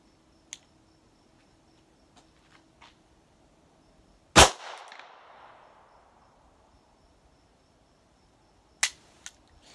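A GSG Firefly .22 rifle fires a single copper-plated round, a sharp close crack with a brief ringing decay, followed several seconds later by a second sharp metallic snap; light clicks and handling noises sit between them, with no talking.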